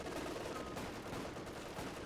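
Machine gun fire from a Company of Heroes 2 match, a dense continuous rattle of automatic bursts mixed with other battlefield gunfire, with a commentator's voice running over it throughout.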